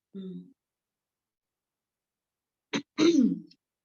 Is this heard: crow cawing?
no